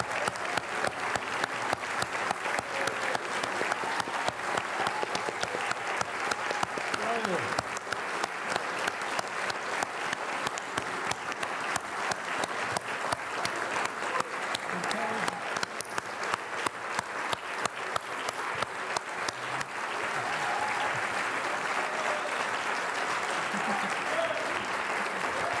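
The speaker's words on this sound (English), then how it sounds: "That's some applause, fair play." A large gala-ceremony audience applauds award winners with long, dense, steady clapping that fills the hall, easing slightly toward the end, with some voices mixed in.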